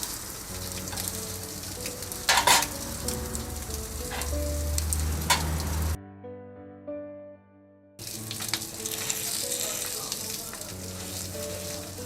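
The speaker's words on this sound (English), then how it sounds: "Sliced kokras are fried on the grill." Sliced Turkish kokoreç frying on a grill, a loud continuous sizzle with scraping and clatter, broken by a short stretch of quiet tonal music before the frying resumes.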